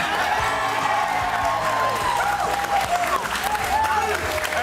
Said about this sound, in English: Keep your applause going, Fletch and Hindy.